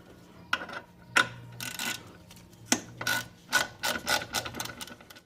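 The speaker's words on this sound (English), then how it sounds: "So get your ratchet and remove it." Ratchet clicking in short bursts while loosening a 10 mm fastener on an Infiniti G20 suspension, close and fairly quiet, with irregular ratcheting strokes separated by pauses.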